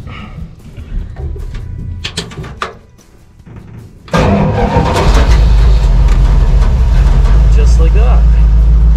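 An old snow vehicle's engine turns over and catches at a remote fishing lodge, settling into a loud, steady low rumble after a few seconds of quieter clatter.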